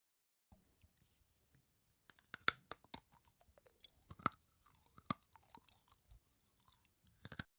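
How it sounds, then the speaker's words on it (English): Small nibbling bites on chocolate or nuts, heard as quiet, close, irregular crunchy clicks and chewing ticks scattered over several seconds, with no talking. "When you nibble on a piece of chocolate or nut, you take small bites"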